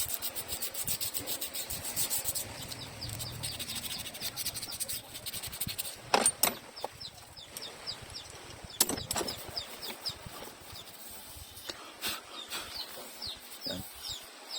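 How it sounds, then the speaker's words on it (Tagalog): Carbon deposits are scraped off the top of an engine piston during an oil-leak repair: close, continuous rasping and scratching strokes with sharper scrapes at intervals, and no talking. "malinis itong matanggal natin itong mga carbon dito sa ibabaw ng piston"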